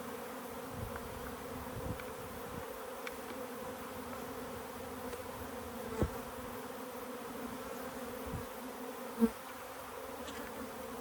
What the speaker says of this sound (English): Bees everywhere here today.